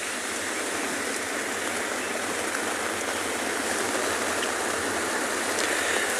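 Steady, dense rain and wind at a penguin beach, a constant rushing hiss, loud and continuous, with no voices.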